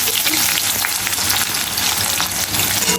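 Shrimp frying in a pan, a dense, steady sizzle that runs close and loud throughout with small crackling pops and no pauses.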